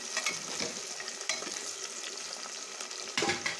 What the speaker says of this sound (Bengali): এখানে পেঁয়াজটা একটু ভাজা হয়ে গেলে মশলাটা দিয়ে দেবো